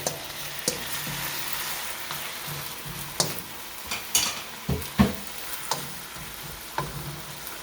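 Chicken and onions with oyster sauce fry in a pan with a soft, continuous sizzle, punctuated by intermittent scrapes and clacks of a utensil stirring.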